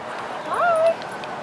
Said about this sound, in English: Hilker Park is very dog friendly, so there's dogs always walking around here